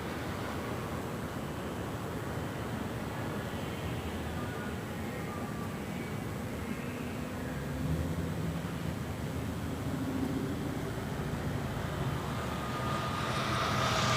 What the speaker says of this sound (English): the Emirates A380 Super up next for takeoff there on the north side